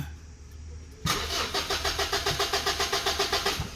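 A car engine cranks and catches after repair work, then settles into a loud, steady idle with a rhythmic pulsing beat, close by and with no talk over it.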